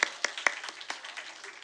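A small church youth-group audience claps briefly: a handful of sharp, separate claps from a few people, fairly faint, fading out within under two seconds.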